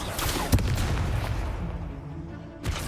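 Spell-cast explosion from the Expulso charm in the Hogwarts Legacy game: a sharp close blast around half a second in, then a rumbling decay, with a second burst near the end.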